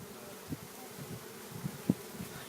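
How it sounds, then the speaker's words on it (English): A low, soft buzz of bees in a hive container, with a few brief louder bumps as they move inside, close by and otherwise quiet. "Let's take a look at these bees over here and see what's going on."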